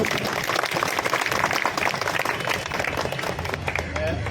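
Audience applause at a rally meeting, a dense, steady wash of many hands clapping together that holds at an even level throughout, with crowd noise mixed in.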